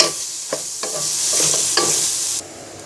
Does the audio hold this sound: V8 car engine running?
no